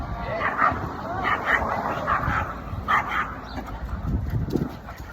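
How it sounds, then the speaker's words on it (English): Dogs bark in repeated sharp bursts at a short distance, mixed with someone talking nearby. "Fucking dogs."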